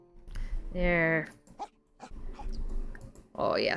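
A sad puppy in The Sims video game whimpers in high, wavering whines, several short plaintive cries spread across the stretch with softer game sounds between them.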